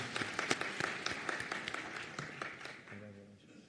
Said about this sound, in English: Another round of applause for Megan.